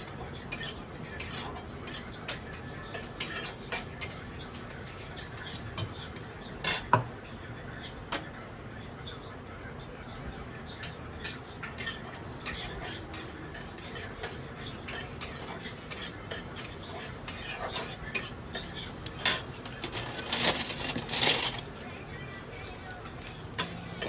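A utensil scrapes and stirs sesame seeds roasting in a dry pan, with irregular gritty rattles and soft sizzling, some louder scraping bursts toward the end.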